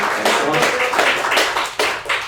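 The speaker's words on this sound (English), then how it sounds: "Let's give a round of applause for Jerry." A small audience claps after a talk, broadband bursts of clapping with a few gaps, fairly near and moderately loud, with a voice briefly audible underneath.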